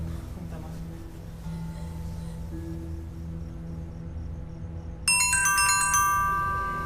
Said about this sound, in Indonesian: Itu handphone lu dah.